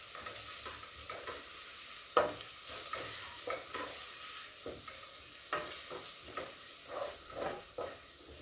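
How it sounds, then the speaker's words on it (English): Garlic stirred very fast in a hot pan for beef pilau, a sizzling fry with repeated sharp scraping strokes of the utensil at a quick rhythm, close and fairly quiet, with no talk. "So that is why you are seeing me. I'm stirring up very fast."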